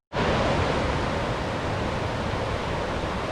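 A fast creek rushes along a hiking trail in the woods, a loud, steady broadband wash of water that starts abruptly and holds without a break.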